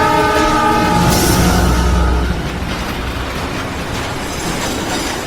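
A loud, sustained train horn blares with layered harmonic tones over rumbling rail noise for about two seconds, then the horn cuts off, leaving steady wheel and track roar of the approaching train as a horror story effect.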